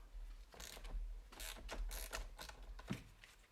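A ratchet undoes bolts to remove the battery from a campervan, making quiet close rapid clicking strokes in several short runs.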